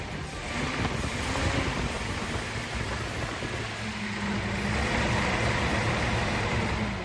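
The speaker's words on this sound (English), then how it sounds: "Now I got fuel pressure, and now it'll rev up." A Datsun 280Z engine fitted with a new fuel rail and a 60 mm throttle body runs with a dense, steady roar, close and loud, holding fairly even for about seven seconds with no talking.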